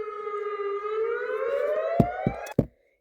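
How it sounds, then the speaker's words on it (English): An emergency alert alarm resembling an ambulance siren wails loudly and steadily, its tone slowly rising, with a few sharp knocks near the end before it cuts off abruptly. "now this is literally the ambulance"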